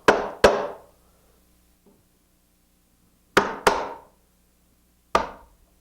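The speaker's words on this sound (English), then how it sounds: "Give it a couple of good whacks with my mallet, chop down in there" A wooden mallet strikes a chisel chopping out dovetail waste, making sharp, loud, close knocks in pairs separated by quiet gaps, five blows in all, each with a short ringing decay.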